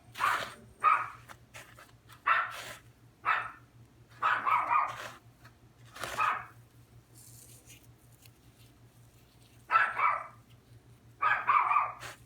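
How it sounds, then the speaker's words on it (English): A dog barks outdoors in a yard, with a steady low hum behind it: short barks in scattered clusters, some single and some doubled, with quiet gaps between. "Don't know what in the world she's barking at"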